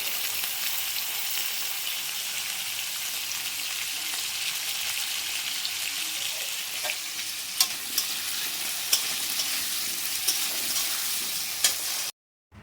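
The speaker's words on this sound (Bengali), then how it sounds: "নুন দিয়ে আলুটা ভেজে নেবো" Potatoes frying in hot oil with salt for a prawn and potato dum, a loud, dense, unbroken sizzle with a few sharp spatters and utensil knocks near the end before it cuts off.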